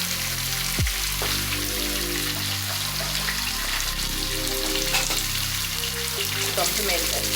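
Seasonings, salt and pimento seeds sautéing in a pan for Jamaican brown stew fish, a steady close sizzle with occasional utensil taps and a few tonal sweeps over the frying.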